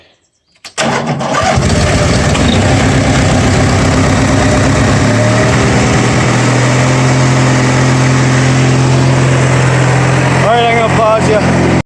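An old Noma or Simplicity lawn mower engine cranks, catches and then runs loud and steady close by, its even drone continuing to the end.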